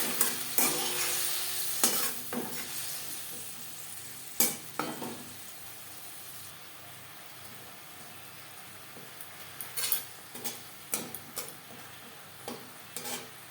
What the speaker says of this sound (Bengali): কারি পাতা ভাজা হয়ে গেছে, এবার দিয়ে দেব হলুদ গোলা জল